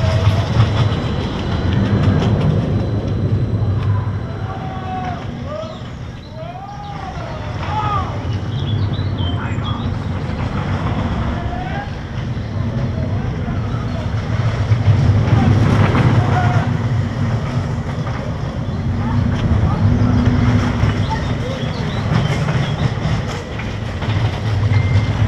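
A spinning roller coaster car at Le Pal amusement park rolls along its track with a steady loud rumble and rattling clatter. Voices chatter and call out at moderate distance, and some higher cries rise above the ride noise.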